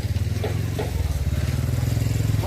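A motorcycle engine runs nearby with a throbbing, pulsing idle that holds steady. Voices talk faintly over it at an outdoor gathering.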